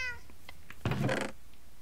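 A cat in the video game Minecraft gives a single short meow, moderately loud against a quiet background, with no one talking.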